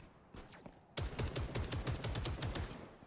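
Rapid automatic gunfire from Punisher in the Marvel Rivals shooter, a steady burst of closely spaced shots that starts abruptly after a quieter stretch of scattered shots and keeps up loud and even to the end.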